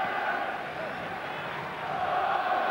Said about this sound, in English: good applause for the keeper, and he deserves it